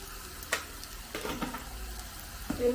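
Chicken frying with chilli powder in a pan for chicken kondattam, a gentle continuous sizzle with a few sharp spoon clinks and stirring scrapes, close and moderately quiet, no talking.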